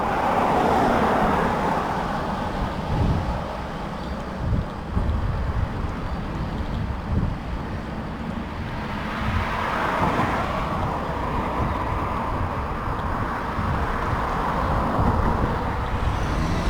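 Road traffic passes on Greenhill Road in the Adelaide Hills on a climb out of the suburbs, a steady close roar of vehicles with wind buffeting and swells as cars go by.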